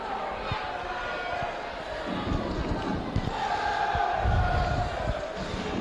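Featherstone rugby league supporters cheer and shout from the stands at a 2005 match against Halifax, a broad, steady crowd roar with swelling bursts and some nearby voices.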